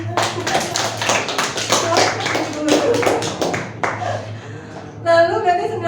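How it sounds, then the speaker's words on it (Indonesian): Hands clapping in a classroom as a group of students applauds a classmate chosen to play the teacher, a brisk run of sharp claps over steady room noise, with voices and a brief tonal sound near the end. "Dia tepuk tangan untuk Dima."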